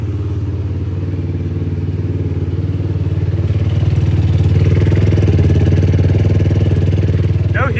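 A cheap racing four-wheeler's engine runs close by, a steady loud rumble with a rapid mechanical clatter that builds slightly partway through.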